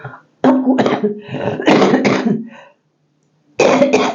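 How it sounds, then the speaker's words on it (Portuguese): A loud, close fit of harsh coughing in several bursts, a short pause, then two more coughs. "a tosse hoje, desde cedo, quando eu levantei, ela me pegou feio"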